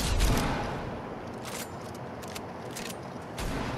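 Sustained video game gunfire roars continuously, dense and loud, with sharper bursts of shots standing out near the start, middle and end and no talking over it.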